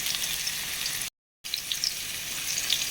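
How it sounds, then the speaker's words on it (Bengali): Potatoes fry in hot oil in a pan as part of a mutton curry, a steady close hiss with fine crackles that drops out briefly near the middle before resuming. "কেটে ধুয়ে রেখেছি এই আলুগুলো দিয়ে দেবো ভেজে নেওয়ার জন্য।"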